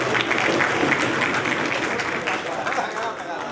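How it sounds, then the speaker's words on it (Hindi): A crowd claps steadily and loudly throughout, a dense, even wash of applause without pauses. "इनके लिए बहुत जोरदार तालियां हो जाए"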